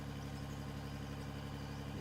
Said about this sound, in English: The constant engine noise there.